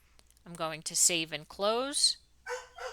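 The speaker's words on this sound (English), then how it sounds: "I apologize for my dog barking." A dog barks a few times in the background while a person talks steadily in front, the barks sharp and brief against the speech.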